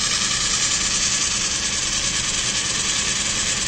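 A small electric motor wired to a relay board runs continuously, a steady loud whirring hum that stays even and unbroken with no talking.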